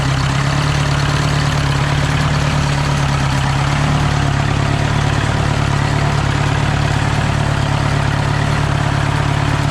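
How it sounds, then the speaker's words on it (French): An old diesel tractor engine idles steadily and loudly up close, a low rumbling chug with no voices throughout. "C'est un tracteur diesel"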